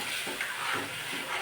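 Yogurt kadhi stirred in an iron kadhai, a quiet continuous bubbling sizzle with faint soft scrapes of the spoon repeating about every half second.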